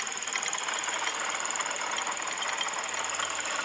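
Up close, a rough-running Lexus 2.5-litre V6 car engine gives off a continuous buzzing drone with a fast metallic clatter woven through it, unbroken and without speech.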